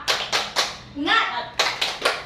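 Children chant and clap in a rhythmic classroom 'tepuk semangat' routine, with bursts of sharp claps in a steady pattern broken by a short sung or spoken chant in the middle, fairly close and lively.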